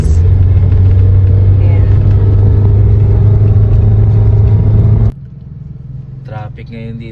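Low steady road-traffic rumble on Marcos Highway heard from inside a car, a loud droning engine and tire hum that drops abruptly near the end, with a short spoken word over it.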